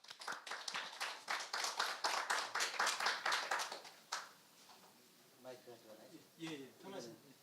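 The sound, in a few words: audience applause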